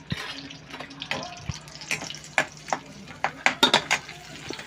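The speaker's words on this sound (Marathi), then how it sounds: "बटर तेलात घालायचं यासाठी की बटर जळणार नाही" Butter melting in hot oil in a pan for pav bhaji: a steady soft sizzle with scattered sharp pops and clicks, louder toward the end, close by and without speech.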